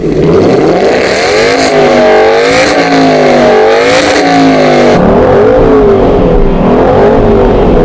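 An Aston Martin 4.7-litre V8 car engine revs hard in repeated rising and falling sweeps, loud and close, then settles into a rough, throbbing idle.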